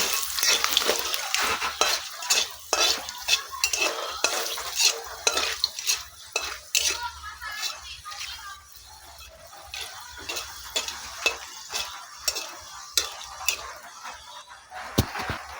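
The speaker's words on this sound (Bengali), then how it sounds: "একটু নাড়াচাড়া করে ভাজা করে নেব" Bay leaf, a dried red chilli and panch phoron frying in hot oil in a pan, with a soft sizzle under steady scraping and clinking strokes of a spatula against the metal, close and continuous.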